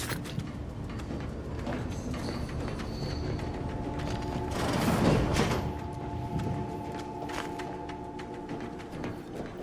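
Elevator mechanism in a video game: a continuous mechanical grinding and ratcheting hum with faint clanks and a brief surge midway, steady and moderately quiet, with no voices.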